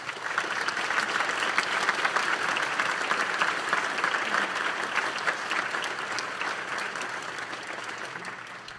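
Sustained applause from the audience at a high school National Honor Society induction ceremony, steady and full throughout, with no talking over it.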